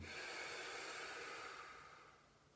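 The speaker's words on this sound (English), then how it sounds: "Breathing out, relaxing." A deep, steady exhale during a morning spine-mobility exercise session, close and breathy, a long soft rush of air that gradually fades over about two seconds.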